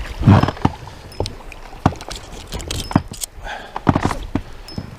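Sharp, scattered splashes of fish, likely asp, breaking the surface of the Moksha River in Mordovia at close range, several bursts over a few seconds with no talking.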